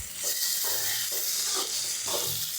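Chilli sauce and tomato sauce being mixed into veg noodle ingredients in a hot pan, with a steady loud sizzle and hiss and a few rhythmic scraping strokes of the stirring utensil.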